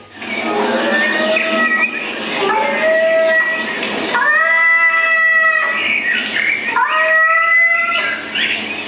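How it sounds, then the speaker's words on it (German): Wildcats caterwauling loudly in mating season, with drawn-out wavering meows and yowls in several long overlapping calls, close and intense, with a voice speaking faintly underneath. "Die wilden Katzen mauzen, was das Zeug hält."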